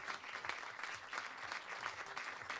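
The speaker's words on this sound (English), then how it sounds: "A big applause for them all." Applause from an audience greeting the junior men's trap shooting finalists, a steady dense patter of many hands clapping at moderate distance, continuous throughout without a break.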